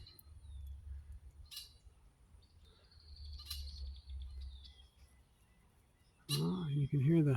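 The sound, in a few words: bird calling from up in a tree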